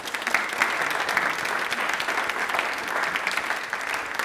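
A studio audience on a televised quiz show claps in a full, even burst of applause, sustained throughout.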